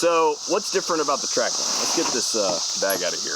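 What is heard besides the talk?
cicadas screeching outdoors in Ohio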